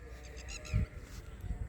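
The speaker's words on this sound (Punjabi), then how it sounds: "ਟਟੀਰੀਆਂ ਦੀਆਂ ਆਵਾਜ਼ਾਂ" Several short, high-pitched red-wattled lapwing calls ring out repeatedly over a low, steady outdoor background hum in the Punjab evening, fairly faint and somewhat distant.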